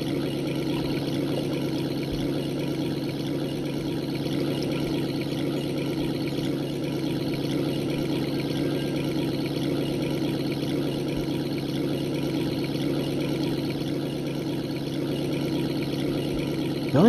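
Boat engines run in the Russian Fishing 4 fishing game, a steady, loud droning hum that holds unchanged for the whole stretch with no voices.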